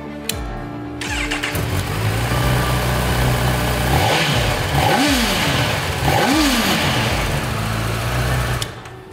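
A Honda project motorcycle engine starts up and settles into a loud idle, then is revved hard three times in a row. The revs rise and fall close by, with no talk over them.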